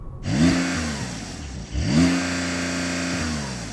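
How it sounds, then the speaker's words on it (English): A Porsche engine revving hard into its soft limiter twice, each rise climbing fast and then holding at a flat, stuttering ceiling, loud and close with no talking. "Let's have a listen to that Porsche. That's got a soft limiter, I know it has, but it sounds really rubbish."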